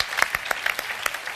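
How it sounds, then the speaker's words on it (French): A conference audience at the Positive Economy Forum bursts into brief, scattered applause for an interpreter, a few uneven claps heard fairly near, with no talking. "On peut applaudir Florence de Peretti quand même, qui fait la traduction."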